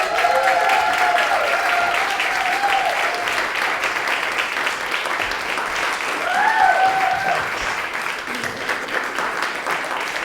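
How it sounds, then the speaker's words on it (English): An audience applauds warmly and steadily for about ten seconds, a dense wash of clapping with a few scattered whistles and cheers. "Thank you for all that applause."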